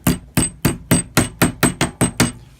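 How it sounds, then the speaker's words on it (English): Nylon hammer striking pennies clamped in a vise to bend them, nine sharp evenly spaced blows in quick succession, close and loud with no talking. "And then a nylon hammer."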